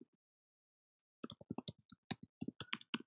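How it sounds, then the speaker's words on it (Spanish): Computer mouse clicks come close and crisp, a couple of isolated clicks followed by a rapid burst of many clicks against silence. "doy clic en crear"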